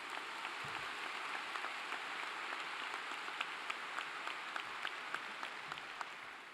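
A large commencement audience at Clemson's spring ceremony applauds steadily and densely, with countless overlapping claps forming a continuous roar that holds at an even level throughout, with no voices over it.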